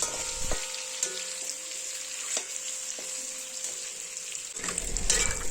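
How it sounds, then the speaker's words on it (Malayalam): Eggs frying in oil with turmeric powder over a medium flame, a steady close sizzle throughout with a few light clinks and a brief stirring scrape near the end. "ഒരു കാൽ ടീസ്പൂൺ മഞ്ഞൾപ്പൊടി കൂടി ഇട്ട് കൊടുക്കാം ഒരു രണ്ട് മിനിറ്റ് നേരത്തേക്ക് മീഡിയം ഫ്ലെയിമിൽ ഒന്ന് ഫ്രൈ ചെയ്ത് കൊടുക്കാം"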